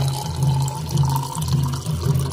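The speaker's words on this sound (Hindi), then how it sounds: "अब इसमें मैं डालूंगी थोड़ा पानी" A little water is poured into a cooking mixture in a village kitchen, a close, continuous splashing trickle with gentle surges in flow.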